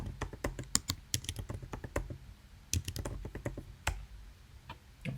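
Someone types a password on a computer keyboard in close, crisp bursts of key clicks with short pauses between flurries.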